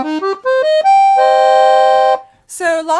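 A black FisItalia 34.44-TC piano accordion on its clarinet register plays a fast ascending run of separate notes into a long steady reedy chord, close and loud, before it stops and a voice follows.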